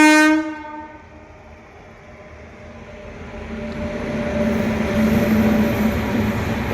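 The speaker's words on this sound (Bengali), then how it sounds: "আমি অনেক দূর থেকে শব্দ পাচ্ছিলাম যে ট্রেন আসে" A train approaching a level crossing near Jalpaiguri, its horn sounding loud at the start, then a low rumble that steadily grows louder and nearer with a steady tonal drone.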